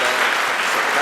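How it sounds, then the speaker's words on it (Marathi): An audience at a World Kidney Day speech event claps in a dense, steady round of applause that lasts about a second. "सगळ्यांनी टाळ्या वाजवून त्यांच्यासाठी"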